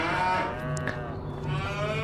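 Cattle moo in a Farming Simulator 25 barn, a long sustained low call filling the whole stretch alongside other livestock sounds, fairly loud and close, with no talking.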